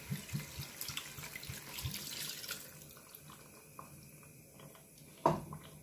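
Water poured from a tap or jug into a pan of chicken with chorizo, tomatoes and olives, a soft steady splashing stream that fades out, followed by a single louder clink near the end.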